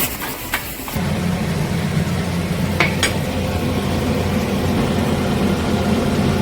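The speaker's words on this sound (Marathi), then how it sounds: "आता हे मिश्रण चांगलं ढवळून घ्यायचं आणि एकजीव करून घ्यायचं आणि सुटेपर्यंत मिश्रण ढवळत राहायचं" A poppy seed and coconut modak filling is stirred in a pan, giving a steady low sizzling rumble with a few brief scraping clicks.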